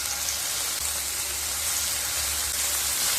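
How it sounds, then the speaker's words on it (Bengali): Shrimp frying in mustard oil in a pan: a dense, even hiss and sizzle, close and loud, with no voices over the steady frying. "এবার ওই তেলের মধ্যে চিংড়ি মাছগুলোকে ভেজে নেব।"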